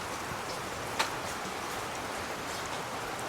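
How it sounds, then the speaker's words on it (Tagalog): Rain falls on and around a campsite pavilion as a soft, even hiss, with one brief tap near the start standing out from the steady patter. "Umuulan na naman."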